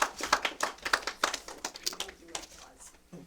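Audience applause at a League of Women Voters candidates debate: a short burst of scattered, close hand claps that thins out and fades over about three seconds.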